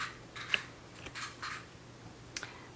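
Scissors snip through crochet yarn after the end is woven into a small winter stocking ornament, giving a few quiet, crisp cuts spaced over a couple of seconds against a low hush, with no talking.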